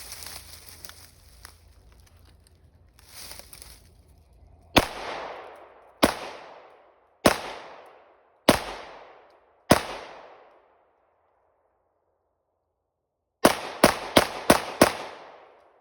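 Single shots ring out from a BCA bufferless 9mm rifle fed with Glock magazines: five loud, evenly spaced reports with decaying echo, a long pause, then four quick shots, after some low handling noise at the start.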